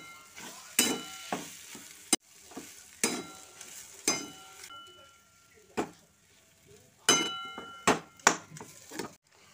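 Potato and spice filling is stirred and fried in a wok, with irregular scraping clatters of a spatula against the pan and light sizzling between strokes, loud bursts separated by quieter gaps.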